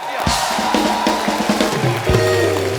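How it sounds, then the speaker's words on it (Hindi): A studio audience cheers and shouts loudly for Raju bhai on a Hindi comedy show, sharp bursts of noise rising over a steady crowd roar. "एक बार राजू भाई के लिए जोरदार तालियां।"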